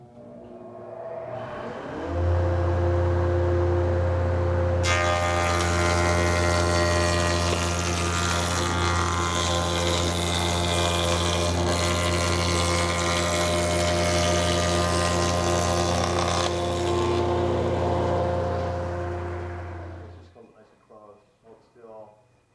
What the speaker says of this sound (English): as I make this long cut along the entire length of the board for this rabbet